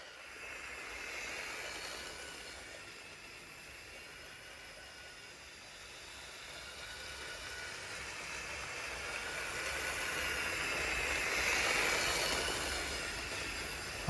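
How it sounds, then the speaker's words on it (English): A battery-powered Lego 10277 Swiss Crocodile locomotive runs along a toy layout track with a steady, soft mechanical whir and hiss that swells and fades gently as it travels, with no voices over it. "So let's go ahead and put this on the layout and run it on the track."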